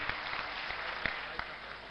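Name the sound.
audience applause welcoming poet Manveer Madhur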